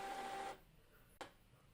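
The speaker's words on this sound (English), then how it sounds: "now the printer is going to initialize for 10 minutes" An Epson printer being converted for sublimation starts initializing with a steady whirring mechanical hum, then stops abruptly and leaves a quiet gap broken by one short click.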